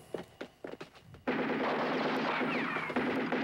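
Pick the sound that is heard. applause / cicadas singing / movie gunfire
movie gunfire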